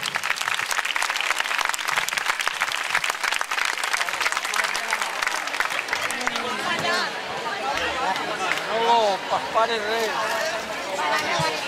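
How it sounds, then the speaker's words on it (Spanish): Strong, sustained applause from a festival crowd in Benaguasil honouring mothers who danced funky and hip hop, dense clapping with crowd chatter, then music with sung melodic lines rising over the clapping in the later half. "Ese fortísimo aplauso para esas mamás que se lo merecen"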